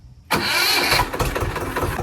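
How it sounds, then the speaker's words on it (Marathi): A tractor engine cranks and catches abruptly, then settles into a loud, steady diesel idle close by. "चला चालू करून पाहू ट्रॅक्टर."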